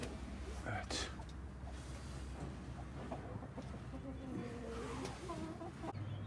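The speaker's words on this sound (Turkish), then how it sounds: "Burada Gurka gelen bir tavuk var büyük ihtimal." A broody hen clucks softly and intermittently in the background, low murmuring clucks over faint ambient noise, with occasional other bird calls.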